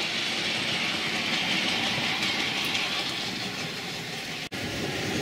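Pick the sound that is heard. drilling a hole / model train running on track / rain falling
model train running on track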